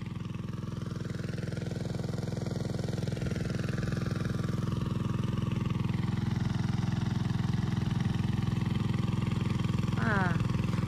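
A water pump motor runs steadily throughout on a farm plot, a loud continuous low drone with a brief chirping sound near the end.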